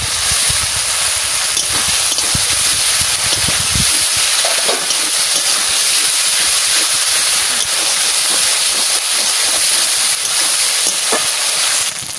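Tomatoes go into a hot pan of oil for fish biryani, giving a loud, steady sizzle and hiss with some stirring, close by and without talk.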